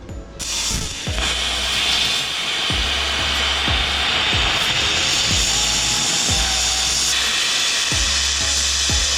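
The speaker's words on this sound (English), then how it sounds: "let's go ahead and play with the plasma cutter again" A YesWelder FIRSTESS MP200 plasma cutter cuts metal with a loud continuous hiss and roar, punctuated by regular clicking ticks, close and alone.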